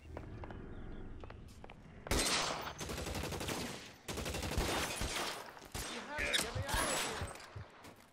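Rapid bursts of M1 Garand and other gunfire in the video game L.A. Noire, punctuated by loud explosions, continuous and dense, with brief pauses between volleys.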